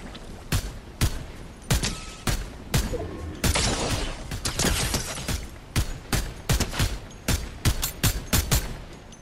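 Video game gunfire in Fortnite during a Zero Build ranked match, with dense bursts of sharp shots cracking repeatedly and irregularly throughout, loud and close, some rapid volleys and scattered single reports.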